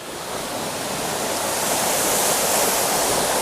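A mountain waterfall pouring over rocks gives a loud, constant rushing roar of falling water, close and steady throughout with no voices.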